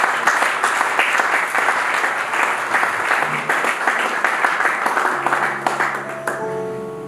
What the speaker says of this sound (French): Est-ce qu'on peut acclamer pour la grâce de Dieu?